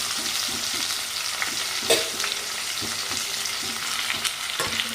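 Curry leaves stirred in a hot frying pan with tomato, a steady loud sizzle with a rhythmic scraping of the spoon against the pan, close up.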